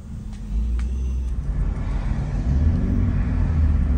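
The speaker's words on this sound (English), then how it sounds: "So right now I'm gonna go for a test drive." A Ford Fusion with an ABS speed sensor fault on a test drive: a low road rumble and engine drone start after a brief quiet moment and then hold steady and fairly loud to the end.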